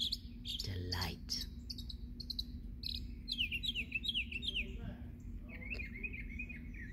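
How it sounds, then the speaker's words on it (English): Small birds chirp and tweet in quick, scattered bursts over a low steady hum, fairly faint and a little distant. "To listen to the birds."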